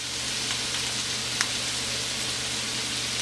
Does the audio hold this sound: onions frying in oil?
yes